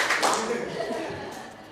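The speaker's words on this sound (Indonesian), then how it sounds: "Tepuk tangan 2" A classroom of pupils claps twice together on cue, a brief burst of hand claps close by, with voices audible around it.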